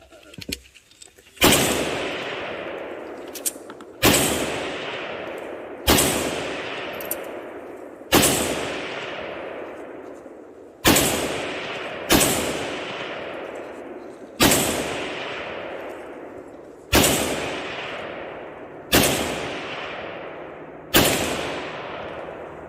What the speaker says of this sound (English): We got Goff here, fixing to squeeze off a few with his Polish AKMS.